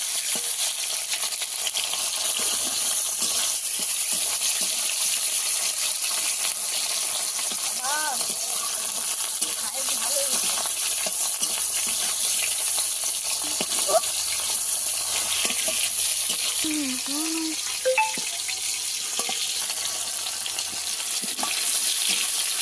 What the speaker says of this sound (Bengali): টমেটো কুচি, এটা ভালো করে তেলে ভেজে নিতে হবে।